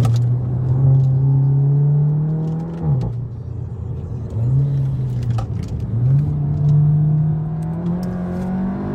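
A Seat Leon Cupra 2.0 with 350 hp and Stage 1 tuning pulls hard in second gear, heard from inside the car as a loud, steady engine drone that climbs, drops briefly on shifts, and climbs again.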